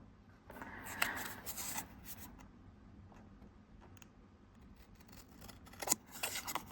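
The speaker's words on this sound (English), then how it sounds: "I'm going to straighten out my cutting line, hopefully." Scissors cut a greeting card along a line in close, quiet snips and crisp rustles, irregular and spaced out with small paper-handling sounds between cuts.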